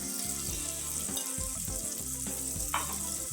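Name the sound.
turmeric added to hot pan sizzling while frying masala rice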